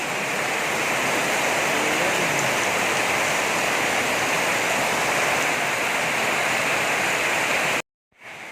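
Heavy typhoon rain pouring in a dense, steady roar, loud and close, continuing without a break before cutting off abruptly near the end.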